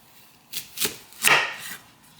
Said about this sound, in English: I'm going to cut them because I want them done quick